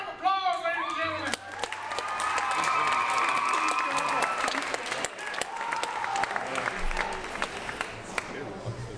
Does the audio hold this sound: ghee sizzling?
no